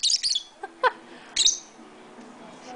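A displeased pet lovebird lets out several sharp, shrill squawks in quick bursts, close up, then falls quiet with faint background hum.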